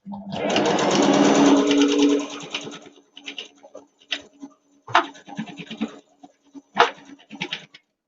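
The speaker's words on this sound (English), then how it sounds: "I'm going to stop at the clip and do a back stitch" A sewing machine runs loud and steady for about two seconds while back-stitching fabric on a children's book cushion, then gives several short stop-start bursts with small clicks and scratches.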